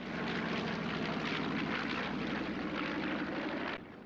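A B-25 bomber making its final pass at the Croatian International Airshow in Varazdin, bomb doors open: a steady, distant piston-engine propeller drone holds evenly for several seconds, then drops away abruptly.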